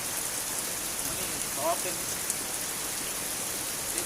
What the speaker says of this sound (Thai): น้ำฝนแล้วพี่น้องเนาะ